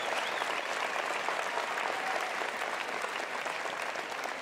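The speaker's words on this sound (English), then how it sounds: "give a round of applause to your parents, grandparents, or any individuals that helped raise you here in the audience tonight" Dense, sustained applause from a large audience at a high school graduation ceremony, loud and even throughout with a faint crowd murmur beneath.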